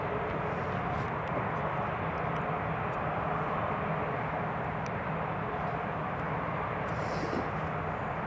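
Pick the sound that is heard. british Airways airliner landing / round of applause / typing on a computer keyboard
british Airways airliner landing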